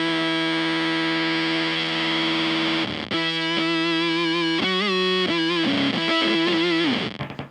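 A single electric guitar note played through a Beetronix Swarm octave fuzz pedal, thick and heavily distorted. It sustains loud, then stutters and warbles as the pedal's controls are nudged before it cuts off.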